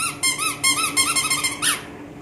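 A squeaky baby slipper gives a quick run of about eight close, high, bright squeaks in a steady walking rhythm, with no other sound around.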